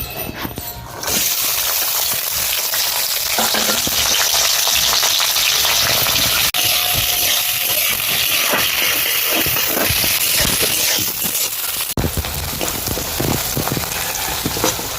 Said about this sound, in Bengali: তো পেঁয়াজগুলো লাল লাল করে ভাজা হয়ে গেছে